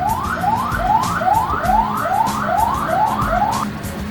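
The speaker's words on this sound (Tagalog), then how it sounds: "May ambulansya." A wailing siren sweeps upward again and again in a steady rapid cycle, loud and continuous, like an ambulance passing close by with traffic rumble beneath.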